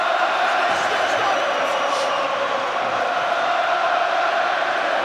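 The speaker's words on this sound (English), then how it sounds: "the crowd getting behind him" An arena crowd at the Anthony Joshua vs Joseph Parker boxing match roaring in support of Joshua, a continuous broad wash of cheering with a commentator talking over it.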